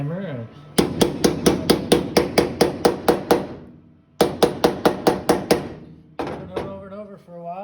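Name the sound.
hammering sheet metal truck panel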